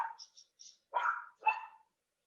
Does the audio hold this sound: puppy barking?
yes